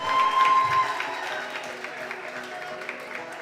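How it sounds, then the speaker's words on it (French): Audience applause at a Science Slam event in Cameroon, louder at the start and then settling into a softer, steady patter of clapping. "Vos applaudissements, s'il vous plaît, une fois de plus."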